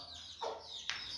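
A hen that has just recovered from illness gives a couple of soft, faint clucking calls close by, two brief notes over a quiet hum with no speech.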